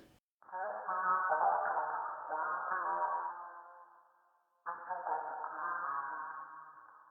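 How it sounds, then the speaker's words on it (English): A muffled, band-limited tonal loop with a lo-fi, degraded character, fading down before restarting; it has a murky, pitched-down quality. "So with all the effects, this is what the sample sounds like now."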